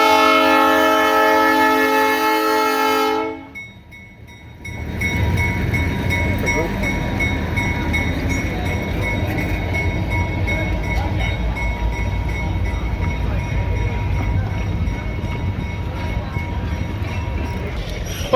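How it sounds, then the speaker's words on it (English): Trains pull into town during Metamora's Canal Days fall festival, a steady rumbling rail noise running through most of the stretch after a brief horn-like tone at the start, with background voices. "You can see the trains coming into town."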